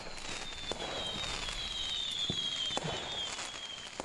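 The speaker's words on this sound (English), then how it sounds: "You hear the fireworks." Fireworks pop and crackle in a rapid, irregular series of sharp bursts, moderately loud against a steady background hiss, with a thin high whine running through.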